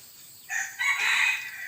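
A large Si Fan crossbreed fighting cock crows once, close and fairly loud, a bright drawn-out call in two rising segments with a quiet background and no talk.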